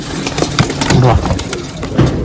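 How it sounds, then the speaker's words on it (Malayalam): Young Teddy pigeon shuffling and moving about in a loft, with soft cooing and rustling close by under ongoing talk throughout. "ഈ കൊല്ലത്തെ നമ്മളിവിടെ ഇറങ്ങിയ കുഞ്ഞനാണ് ഈ പോകുന്നത് ഈ ഒരു പ്രാവ്"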